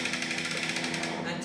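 A 250 kg IKAR load winch is cranked by hand to raise a load, giving a rapid, even mechanical whirring and clicking that stays steady and close, with someone talking over it.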